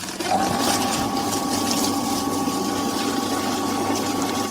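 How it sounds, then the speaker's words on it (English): An above-ground pool sand filter pump runs in normal filtration mode, a steady close mechanical hum with a constant whine and water rush, unbroken throughout. "Turn on the pump and switch it to the normal filtration mode."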